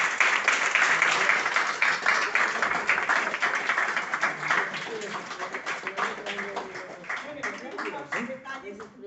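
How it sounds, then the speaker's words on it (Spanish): An audience claps after a lecture on the Templars at the Casa de Soria, loud sustained applause that slowly thins into scattered claps while voices murmur underneath. "un fuerte aplauso"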